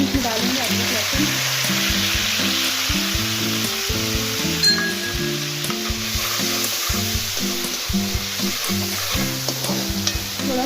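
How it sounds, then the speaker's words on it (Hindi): Ginger and garlic fry in hot oil in a pan while making moong dal, giving a continuous close sizzle with stirring scrapes over background music, without speech. "थोड़ा सा अदरक लहसुन फ्राई हो जाए"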